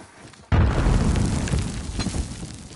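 A frag grenade goes off with a sudden loud boom in the video game Call of Duty: Warzone, following a quiet moment and then rumbling and crackling as it slowly fades.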